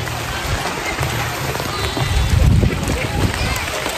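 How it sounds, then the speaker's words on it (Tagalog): Steady rain patters on a surface in the mountains at Daraitan, Tanay, Rizal, with some louder splashy bursts midway and continuous hiss throughout. "Ang ganda pa ngayon kasi umuulan. Napakalamig."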